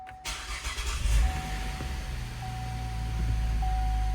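A car engine cranks and catches, then settles into a rough, uneven idle while its timing chain tensioners are still filling with oil; the motor is close and steady after a brief start, with no talking.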